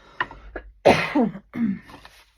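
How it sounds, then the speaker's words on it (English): A few short coughs and throat-clearing bursts from a person with a cold, close and fairly loud, separated by brief pauses. "Sorry about my cough"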